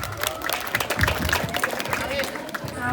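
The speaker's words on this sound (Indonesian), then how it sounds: "Berikan tepuk tangan yang meriah." An audience at a school drama performance applauds in a dense, steady wash of clapping with some cheering, while a voice talks over it.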